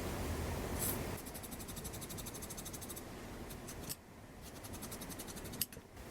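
Scissors snip through fabric to cut out half circles, a quiet run of rapid, even crisp clicks that pauses briefly and then resumes, close by with no talking.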